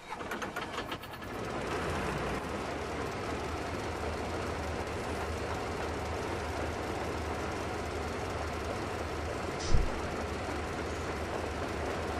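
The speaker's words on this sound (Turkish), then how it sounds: "Tren gelir, hoş gelir." A train arriving in the game Metro Exodus, a steady low mechanical rumble and engine drone that holds throughout, with a brief metallic clank near the end and no talk.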